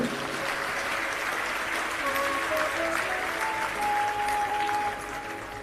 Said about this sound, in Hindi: अब ताली बजाने से कुछ नहीं हाथ आएगा।